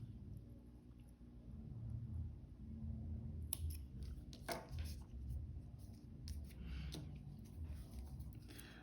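Scissors snipping leftover crochet yarn off a heart-shaped bookmark, a few soft close cuts and rustles over a low steady background hum, no talking.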